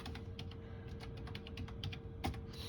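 Quick, steady keystrokes tap on a cordless keyboard with a built-in mouse touchpad, a close run of light clicks over a faint constant hum, ending with a couple of louder presses.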